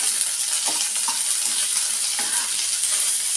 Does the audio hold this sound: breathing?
no